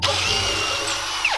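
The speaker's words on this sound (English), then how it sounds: "I'm gonna drill a bunch of holes and get this all built." A power drill runs continuously while boring holes into the body of a Suzuki Samurai, loud and close with a steady whine and a brief pitch shift near the end.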